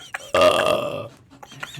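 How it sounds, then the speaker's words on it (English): A loud, drawn-out burp voiced close into a microphone, lasting about a second, followed by faint background sounds and quieter mouth noises. "would burp into the microphone after doing a burnout?"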